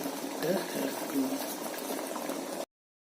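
Pumpkin and peas boiling in water in a pot for erissery, a steady close bubbling simmer with a few brief stirring clinks that stops abruptly.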